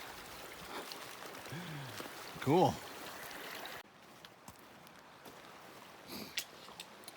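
Water of Blue Creek flows and trickles steadily in the background along a backcountry hiking trail, a soft continuous wash close by, with a brief spoken word and a short whistle-like sound partway through.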